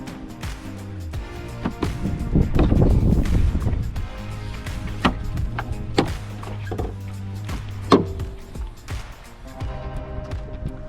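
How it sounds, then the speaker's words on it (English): A Jeep JLU/JT hood is lifted open with a few sharp metallic clunks and latch thunks at close range, scattered over several seconds above steady background music. "we need to open the hood"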